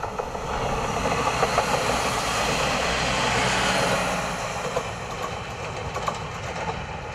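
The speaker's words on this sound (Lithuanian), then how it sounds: "Ar gerai girdisi artėjančio traukinio garsas," A train approaches a railway level crossing with a broad, steady rumble that swells and then eases off, heard from a distance with no horn or signal audible.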